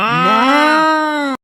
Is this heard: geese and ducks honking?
no